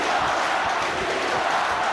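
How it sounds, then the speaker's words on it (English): A dense, steady roar from a rugby stadium crowd in Treviso, Italy, cheering loudly and continuously with no breaks. "Listen to the crowd here in Treviso."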